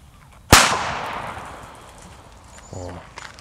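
A single sharp firecracker bang at a fireworks test, loud and close, with a long fading tail; a voice speaks briefly near the end.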